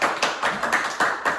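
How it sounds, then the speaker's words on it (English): Audience applause at a live stand-up comedy show fills the whole moment, a dense, steady patter of many hands clapping with slight rhythmic surges and no voices. "So let's give another round of applause."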